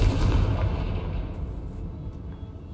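A Confringo spell explosion in the video game Hogwarts Legacy: a loud, deep blast whose low rumble rolls on and slowly decays over a few seconds.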